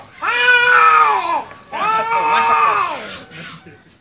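Mating cat yowling loudly in long drawn-out wavering cries, two sustained calls with a short fainter one trailing at the end, close to the microphone.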